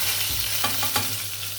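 Fish frying in hot oil, a dense crackling sizzle with a few sharp clatters from stirring, brief and close, with no voices.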